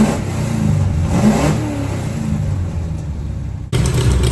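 A Plymouth 'Cuda V8 with freshly adjusted ignition timing revs hard and close, a loud sustained rumble that holds steady for several seconds before cutting off abruptly, then briefly resuming.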